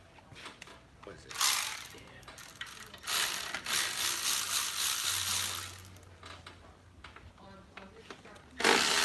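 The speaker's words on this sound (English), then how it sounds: "You got an 8 gear wrench and backwards pliers." Gear wrench ratcheting in a few bursts of rapid clicking among tools, with a brief clatter at the end; no one talks.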